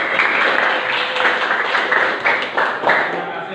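A class applauds after a group answers a quiz question about the vernier caliper in a teacher-training lesson: steady, close clapping from a small group, with claps overlapping into a continuous patter throughout.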